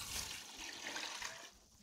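Coconut water poured over coated chicken pieces in a pot, a steady splashing trickle of liquid that runs for about a second and a half and then thins out near the end.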